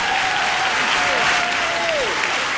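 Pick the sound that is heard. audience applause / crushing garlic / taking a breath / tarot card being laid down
audience applause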